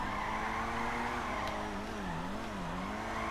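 Tire squeal from an Itali GTB sports car spinning donuts in GTA 5, a steady, continuous screech with a sustained engine drone underneath that bends in pitch as the car circles, loud and close.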